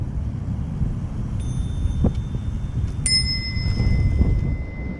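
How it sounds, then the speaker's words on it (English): Bicycle bell rung several times during a group ride, bright metallic dings over steady wind rumble and road noise. "we use the bells to let people know we're coming"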